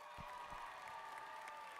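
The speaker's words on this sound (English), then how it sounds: "Round of applause for Team" An audience at a FIRST robotics district event applauds a competing team, a faint, distant, even patter of clapping with a few low thumps.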